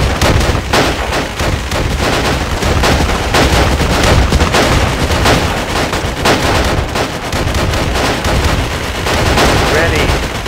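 A company rifle volley in the video game WWII Online. Loud, dense gunfire crackles continuously with overlapping reports and no quiet gaps.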